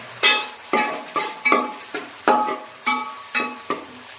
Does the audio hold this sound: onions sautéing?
yes